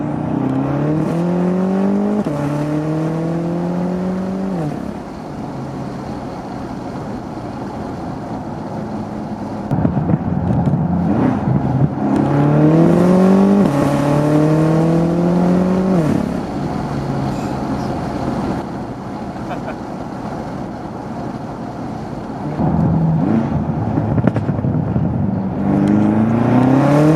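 A tuned BMW F13 M6 running a Bootmod3 Stage 2 map pulls hard in second gear on a straight road with traction control off. The engine is loud and close, its pitch climbing in repeated surges between shifts, and no one speaks.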